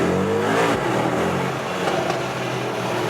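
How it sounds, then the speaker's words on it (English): A loud, deep Mercedes-AMG GLE 63 S Coupe performance exhaust roars steadily as the engine accelerates hard, a continuous throaty rumble with no voices. "This optional performance exhaust is really something."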